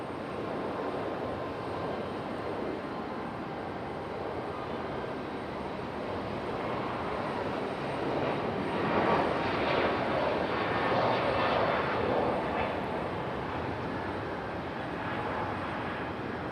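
A Frontier airliner moves at Raleigh Durham airport, its engines a steady distant whine and rumble that swells slightly midway, with no talking over it.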